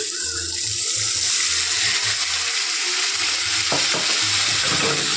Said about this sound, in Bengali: আমি এই যে জলটা অ্যাড করে দিচ্ছি